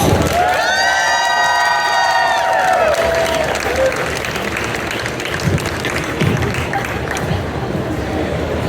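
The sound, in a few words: audience applause and cheering at a Star Wars panel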